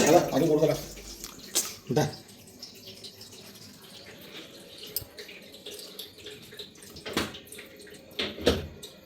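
Water with salt is poured into a cooker holding meat in a home kitchen, heard as a splashing burst at the start and then a few shorter pours and gurgles at moderate loudness.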